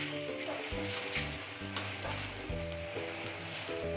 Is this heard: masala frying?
yes